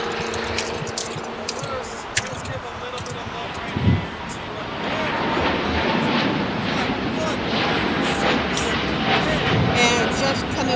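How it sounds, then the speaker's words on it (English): An ANA airliner taxis toward the gates at LAX after landing, its engines a steady distant roar mixed with wind noise that swells and holds loud through the second half. "ANA on the pond, just arriving for its final arrival to the gates"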